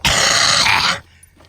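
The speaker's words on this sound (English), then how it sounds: "oh my God, I just coughed up a black sunflower seed." A single harsh cough from a nearby person choking up a black sunflower seed, loud and abrupt for about a second, then quiet.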